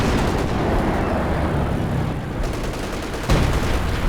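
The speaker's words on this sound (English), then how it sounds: "Major artillery dropped on the anti-tank gun." A heavy artillery barrage in Company of Heroes 2 pounds an anti-tank gun position with loud, dense rumbling blasts that run together into a continuous roar, plus one sharper impact near the end.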